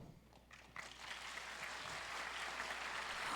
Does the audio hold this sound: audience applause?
yes